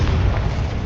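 A deep, booming blast from the Confringo fire spell in Hogwarts Legacy, a dense low rumble filling the short moment with no pause.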